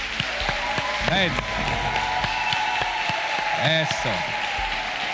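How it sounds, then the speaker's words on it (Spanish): Church congregation at a charismatic service in Cali, Colombia applauding steadily under voices calling out, with musical tones ringing through the crowd noise. "con un gran aplauso a nuestro Dios"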